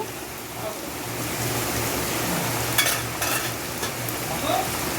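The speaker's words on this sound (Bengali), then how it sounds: "ঝোলটা বেশ ভালোই ফুটে গেছে" Thin hilsa fish curry broth boils in a pot, a steady soft bubbling and hiss that stays fairly loud and even throughout, with a few brief clinks near the end and no talk.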